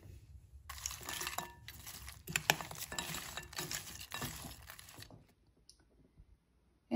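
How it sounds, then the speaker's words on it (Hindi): Nuts being mixed into a salad in a bowl give off close, crisp rustling and crunching with light clinks, tossed in quick uneven strokes for about five seconds before it fades to near silence. "तो अब सैलेड में मिक्स कर देते हैं नट्स।"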